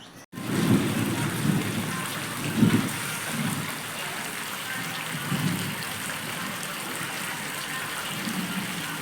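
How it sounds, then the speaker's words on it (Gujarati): Heavy rain pours steadily nearby while deep rumbles of thunder roll in and fade several times beneath the constant hiss. "વરસાદ આવે છે એટલે બેહવાનું"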